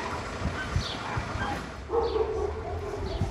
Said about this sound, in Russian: Там лает собака, и они тоже ей в ответ